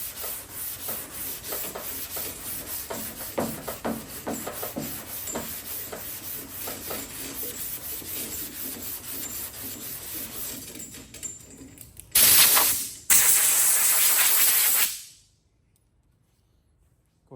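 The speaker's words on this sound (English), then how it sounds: "you just have to keep blocking until you get all that gone" Guide coat on a car body panel is block sanded with steady, rhythmic rasping strokes close by, then loud hissing bursts of compressed air blow off the dust before quiet falls.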